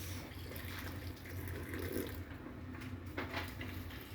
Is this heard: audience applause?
no